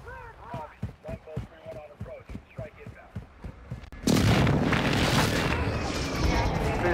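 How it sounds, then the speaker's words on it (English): Airstrike explosions in Call of Duty Warzone on Ashika Island hit as a sudden loud roaring blast that keeps booming and rumbling at close range, after a stretch of talking. "Friendly airstrike on the way"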